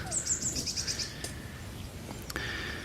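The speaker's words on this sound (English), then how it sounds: "you can hear the birds" Birds sing and chirp in quick repeated high phrases beside the River Thames, clear and fairly close over a quiet outdoor hush, with a few brief knocks and rustles in between.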